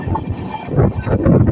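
Passenger train running, heard from onboard as a loud, steady rumble with a brief rattle of the carriages.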